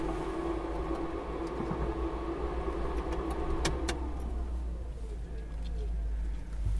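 A prototype electric car powers down after the key is turned off, its steady electrical hum and whine fading gradually to near quiet, with faint clicks along the way.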